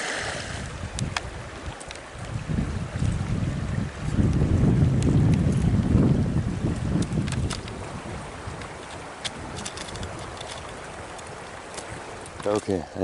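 Gusty wind buffets the microphone outdoors on a rocky riverbank during a rockhounding outing for agates and jasper, swelling into a heavy low rumble in the middle and easing off toward the end, with no speech over it.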